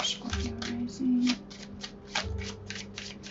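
A small deck of tarot cards being shuffled by hand, a rapid run of crisp riffling bursts in an uneven rhythm, close and clear, with a voice murmuring briefly underneath.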